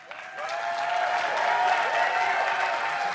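Home crowd applauding and cheering at a 2013 League of Legends World Championship quarterfinal, a broad wash of clapping that swells in after a brief pause, with faint crowd noise underneath and a voice carrying through.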